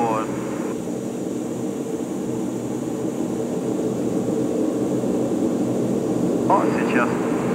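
Steady jet engine drone inside a jet aircraft in flight, a smooth continuous roar without propeller vibration, loud and close throughout with someone talking over it.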